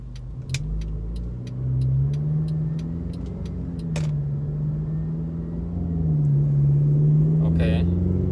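A Mercedes accelerates with the throttle floored, its engine drone rising and falling in pitch as it pulls through gears, accompanied by regular clicking ticks and a brief rattle near the end.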